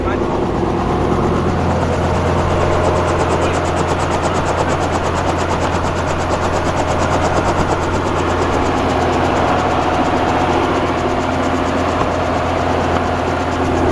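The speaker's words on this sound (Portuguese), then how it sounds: "Olha aí o helicóptero vindo de fora" A helicopter's loud, steady engine drone with a fast rotor pulse, holding constant throughout, with Portuguese voices faintly underneath.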